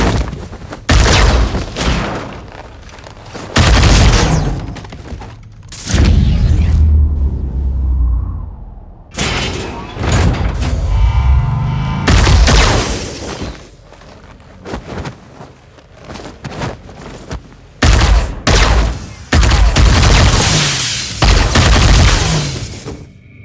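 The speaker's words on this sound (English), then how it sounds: "You can hear every movement of the characters, and the guns too." Gunfire and combat impacts in a sci-fi short film bar fight: loud bursts of shots, booms and thuds come in dense clusters alongside whooshes of movement, filling the scene with barely a pause.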